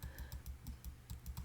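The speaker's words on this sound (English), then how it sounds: "Oh my goodness, too much clicking." A computer keyboard or mouse clicks during image editing: about ten light, regular clicks in a quick, close, fairly quiet rhythm.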